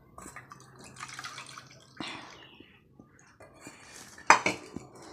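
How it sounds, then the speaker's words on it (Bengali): Milk pours into a bowl for cake batter in a home kitchen, a short liquid trickle with drips, broken up by sharp clinks and clatter of the bowl and utensils, close and fairly quiet. "এই বাটিরই 1 বাটি মাপ করে দুধ দেব"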